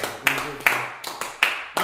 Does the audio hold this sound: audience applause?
yes